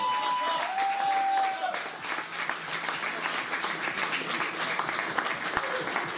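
Spectators at a national air pistol championship final applaud the medal winners, with sustained clapping from a modest crowd heard alongside a voice speaking over the public address.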